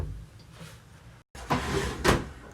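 A drawer in a lakeside cottage sliding open, with a couple of wooden scraping rumbles and a sharp knock near the end, close and fairly quiet.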